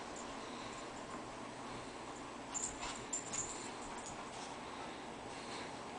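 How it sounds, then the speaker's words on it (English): Little puppies indoors at home give a few faint, high whimpers and yips in short clustered bursts midway, over a quiet room background. "Aw, look at our puppies."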